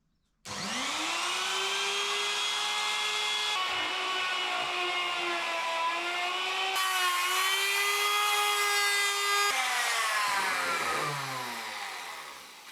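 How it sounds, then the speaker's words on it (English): A router cuts wood gently in shallow passes for a Firebird guitar build, its high motor whine starting abruptly and holding steady, shifting pitch slightly as the load changes, then winding down near the end. "I'm going to start very gently, just working my way down with the router."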